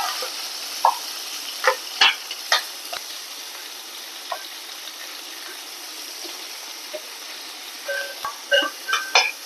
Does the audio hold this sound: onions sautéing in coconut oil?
yes